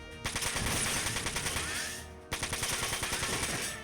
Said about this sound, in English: Rapid fire can trigger on the shotguns too, and you just get more buckshot flying out in the shot.